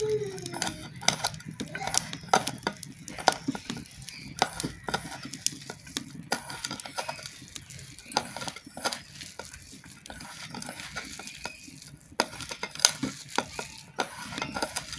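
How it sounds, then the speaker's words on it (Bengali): Grated potato being mixed dry with salt, turmeric and chilli powder in a bowl, giving steady soft rustling and scraping with occasional light clicks of utensils, close and continuous. "এবার শুকনো অবস্থায় এটা ভালো করে মেখে নেব।"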